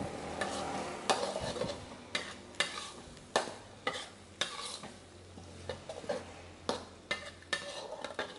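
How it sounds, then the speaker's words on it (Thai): Fresh shrimp are stir-fried with shrimp paste chili sauce in a pan, producing a rhythmic run of sharp scraping stirs, roughly one per second, over a low sizzle. "เดี๋ยวเราก็ผัดนะคะให้น้ำพริกกะปินั้นเคลือบกับตัวกุ้งนะคะ"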